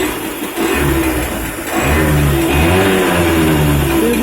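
TVS XL Super Heavy Duty moped engine revving after carburetor tuning, a close, loud, raspy drone that rises and holds at higher revs, with no talking.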